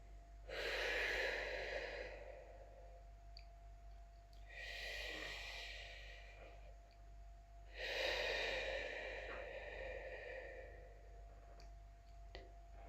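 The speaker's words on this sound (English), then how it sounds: "We do some barely there breathing." Slow, quiet breaths during apnea breath-hold training, three soft airy inhalation or exhalation swells spaced several seconds apart over a low steady hum, with no talk.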